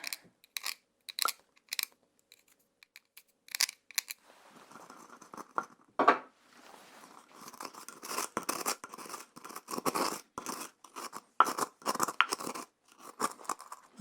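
Material scraped into a container during a soft-spoken witch potion-making roleplay, giving close, crisp scraping and crunching bursts in an uneven rhythm, sparse at first and then dense and continuous.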